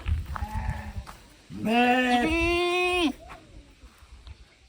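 Goats bleat loudly nearby, a short wavering call followed by a longer sustained one, over a faint background murmur.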